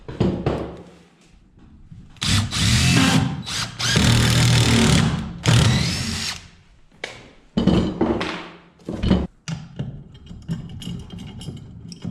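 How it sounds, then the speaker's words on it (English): A power drill pre-drilling a screw hole near a wall whirs in several long, loud bursts, stopping and starting with brief pauses, then a few shorter spurts and light knocks near the end. "I'll use my screw to pre-drill."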